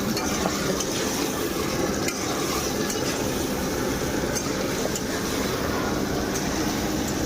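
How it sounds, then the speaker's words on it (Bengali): Chicken meat and a large batch of potatoes cooking in a garage kitchen, a steady dense sizzling and stirring texture that stays loud and continuous throughout, with no talk. "গ্যারেজ স্টাইলে যে মাংস রান্না হচ্ছে"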